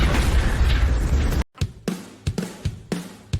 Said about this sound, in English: Boom. Here's an explosion.